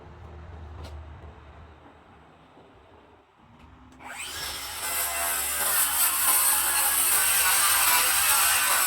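A circular saw spins up and rips through a wooden board, a loud bright whine that starts abruptly partway in and holds steady to the end, after a quiet stretch of low room noise.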